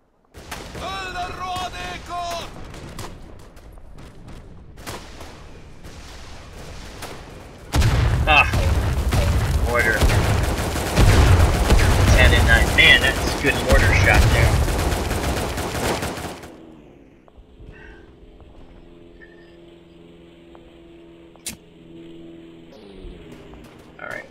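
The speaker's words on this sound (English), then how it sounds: "that guy's just mortaring the bejesus out of us here" Mortar blasts and gunfire in the WWI game Tannenberg: dense bursts of shots and booms swell into a loud, sustained barrage midway, then drop to quieter scattered fire, with voices talking over it.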